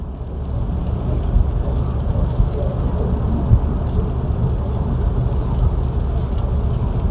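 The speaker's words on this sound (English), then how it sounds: "It is really raining today" Steady rain hiss with a low rumbling background, continuous and even throughout, no voices.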